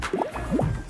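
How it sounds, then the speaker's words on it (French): Bubbles popping and wobbling in the video game Sackboy: A Big Adventure, a short run of close, squishy, drip-like gurgles rising and falling over about a second. "Ah, il y a des bulles."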